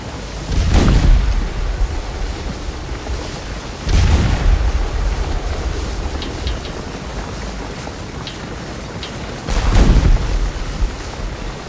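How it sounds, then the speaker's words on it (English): Cannon canister fire tears into an infantry charge in the Scourge of War Civil War battle game: three heavy, deep booms roughly three and six seconds apart over a steady rumble of distant musketry. "charging the cannon battery, taking canister fire as they go"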